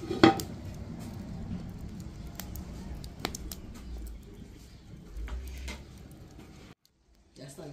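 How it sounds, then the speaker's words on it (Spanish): A lid drops onto a pot of nopalitos stew with one sharp, close clank at the start, followed by low kitchen background noise and soft clatter before the sound cuts out. "lo tapamos para que empiece a sazonar"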